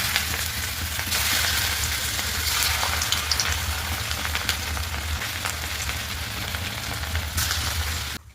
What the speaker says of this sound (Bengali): এবার আস্তে আস্তে এগুলো আমি ভেজে নেব।